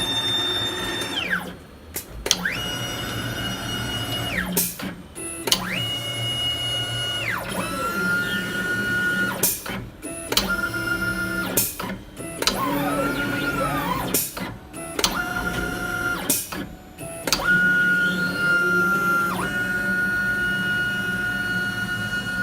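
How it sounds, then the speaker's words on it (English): A vinyl cutting machine cutting a jersey insert: a steady series of whirring motor sweeps and rising, falling servo tones as the carriage moves back and forth, broken by short clicks and pauses, close and fairly loud, with no talk. "So now we'll go ahead and hit start and let the machine cut the jersey"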